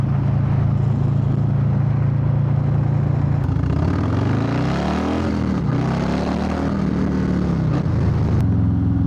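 A 2022 Harley-Davidson Low Rider S engine runs close and loud, idling with a deep rumble, then revving up and settling back before idling again, with no talking.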